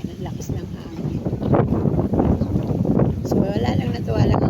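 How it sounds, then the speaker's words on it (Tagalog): Strong wind roaring across dried-up fishponds in hot weather, a steady loud buffeting rush hitting the microphone throughout, with a person talking underneath. "Ayan, ang lakas ng hangin."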